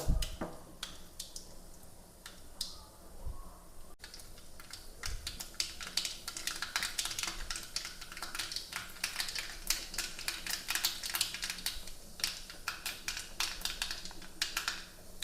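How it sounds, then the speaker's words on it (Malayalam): Dense, irregular crackling and popping of mustard seeds spluttering in hot oil, continuing steadily throughout with sharp little bursts. "കടുക് പൊട്ടിയിട്ടുണ്ട്."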